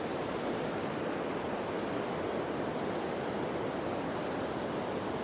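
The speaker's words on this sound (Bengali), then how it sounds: "চলুন এখানকার ঝর্ণাটা একটু কাছ থেকে" A roaring waterfall at Sonmarg in Kashmir, in cold winter conditions, gives a steady, dense rush of water that fills the whole stretch, loud and unbroken, with no voices.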